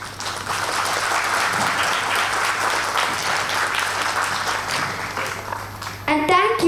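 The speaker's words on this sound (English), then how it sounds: "A huge round of applause." A crowd at a school event for a fifth-grade class presentation gives a long, dense round of applause that holds steady for several seconds, then fades as a voice begins speaking at the very end.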